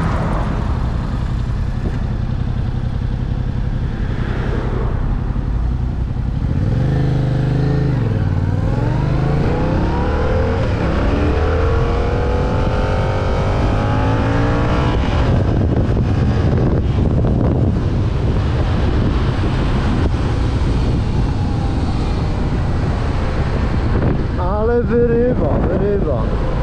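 A 2024 Yamaha MT-07 motorcycle engine runs steadily while riding, with revs rising and falling under heavy, constant wind buffeting across the microphone for the whole stretch.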